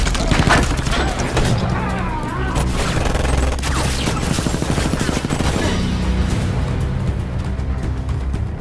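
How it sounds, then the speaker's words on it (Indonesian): Dense, sustained bursts of gunfire crackle and pop in rapid succession, mixed with booms and a loud chaotic backdrop throughout a fierce film shootout. "terjadi baku tembak yang begitu sengit."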